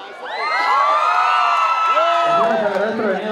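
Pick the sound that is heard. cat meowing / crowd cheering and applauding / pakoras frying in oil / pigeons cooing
crowd cheering and applauding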